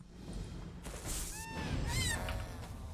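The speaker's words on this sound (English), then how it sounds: "Ooh, poultry." Goose-like poultry honking in Elder Scrolls Online, with two or three nasal honks in quick succession at mid distance, heard over a soft ambient game background.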